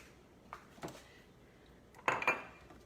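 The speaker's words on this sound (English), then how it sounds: "Put the lid on so it won't go splattering everywhere." A metal lid set onto a cooking pot holding marinara sauce and meatballs: a couple of light taps, then a louder clattering clank as it settles, fairly close and alone.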